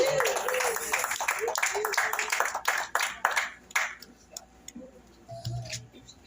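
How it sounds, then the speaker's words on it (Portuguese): A church congregation at a prayer vigil claps together in quick, rhythmic bursts for several seconds, the claps thinning out and stopping, leaving quieter sounds behind. "dê uma salva de palmas bem forte para o Senhor Jesus"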